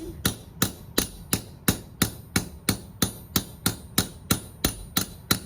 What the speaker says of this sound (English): I'm going to use the claw hammer and I'm just going to start lightly hammering down along